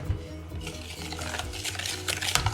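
A whisk stirs flour into cookie brownie batter in a bowl, giving soft continuous scraping and clinking strokes at close range with a steady rhythm and no talk.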